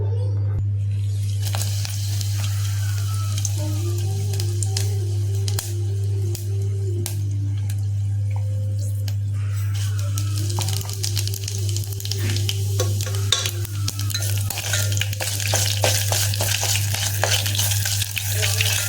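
Dried red chilies, curry leaves, chili seeds and cumin are tempered in hot oil, giving a steady sizzle with crackles and spatters, over a constant low electrical hum and a faint melodic tone in the background.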